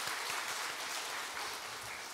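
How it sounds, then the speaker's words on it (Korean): A Korean Sunday-worship congregation applauds to congratulate a student, a faint, even wash of many hands clapping with no voices over it. "우리 박수로 축하하겠습니다."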